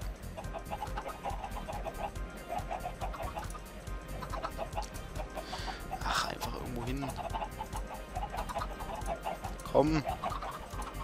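Chickens in the game Minecraft give short, repeated clucks at a low level, with a few louder squawky calls and some talk in the background.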